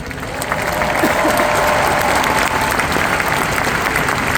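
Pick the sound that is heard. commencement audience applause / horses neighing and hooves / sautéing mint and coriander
commencement audience applause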